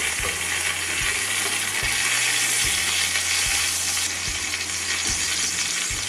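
A pork burger sizzles on a Weber kettle BBQ with a loud, continuous crackling fry, alongside faint low periodic thumps, and no voices.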